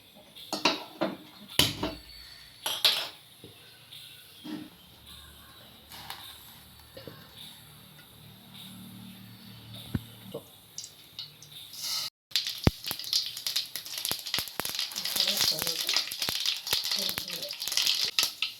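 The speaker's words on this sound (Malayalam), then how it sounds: "ഇപ്പം നമുക്ക് ആദ്യം കടുക് വറക്കാം" Mustard seeds frying in a pan while preparing taro stem thoran, starting with scattered clinks and rattles, then breaking into a dense, continuous crackle and sputter of popping seeds, close and fairly loud.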